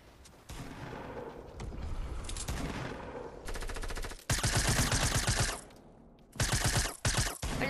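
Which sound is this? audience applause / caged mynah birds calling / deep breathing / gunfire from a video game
gunfire from a video game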